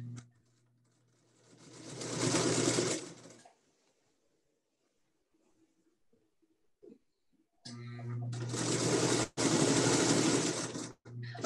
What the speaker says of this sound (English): It's so fun to hear the sewing machine sounds, right?